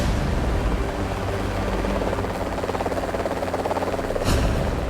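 An AH-64 Apache attack helicopter of the Indian Air Force flies close by, its rotor producing a loud, rapid, steady thudding chop over a deep engine drone, with a brief sharp burst near the end.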